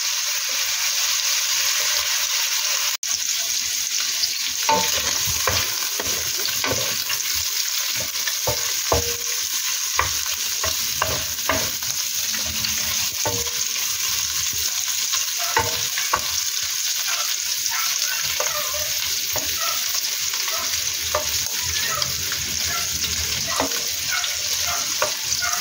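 Shrimp sizzle briefly in a hot pan, a steady broadband fry with scattered crackles and pops from stirring throughout, close and fairly loud with no voices.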